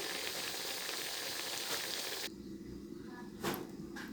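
Whole cumin, ginger-garlic paste and mustard paste fry in oil with turmeric and chili powder, giving a steady, dense sizzle that drops to a softer crackle halfway through, with a brief flare near the end.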